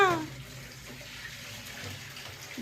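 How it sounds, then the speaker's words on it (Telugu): Water runs and splashes into a metal water pot in a steady stream, close by, with a brief voice at the very start. "మోహన్ దానా వాటర్ పోయమంటే జస్ట్ వన్ గ్లాస్ బిందెలో నీళ్లు పోసుకోవాలి"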